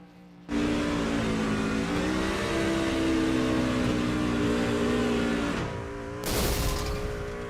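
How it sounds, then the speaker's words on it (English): Racing trucks doing a three-car burnout in a racing video game, steady loud engines revving hard at high pitch with a continuous roar, a brief dip and then a renewed surge near the end. "He's going to continue to burn it down from here. And it's going to be a 3-car burnout altogether."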